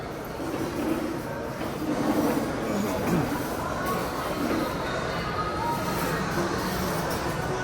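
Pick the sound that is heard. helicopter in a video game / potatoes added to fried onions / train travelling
train travelling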